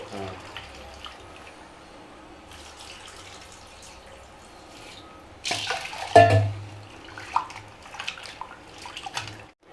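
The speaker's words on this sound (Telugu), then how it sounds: "కందిపప్పు అండి రెండు సార్లు బాగా శుభ్రంగా కడిగేసి కుక్కర్లో పెట్టేసుకోవడమే అండి" Toor dal is rinsed in water, quiet trickling and sloshing that builds to a louder splashing burst midway, then settles into lighter swishing, with a voice faintly underneath.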